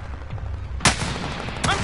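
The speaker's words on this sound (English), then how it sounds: "I'm taking fire." Gunfire in a PS4 war video game: two sharp, loud shots, one near the middle and one near the end, over a low background rumble.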